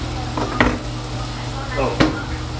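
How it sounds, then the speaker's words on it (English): Food stirred in a hot frying pan, a soft steady sizzle with two scraping strokes of a utensil against the pan, close and clear. "Stirred until everything was melted."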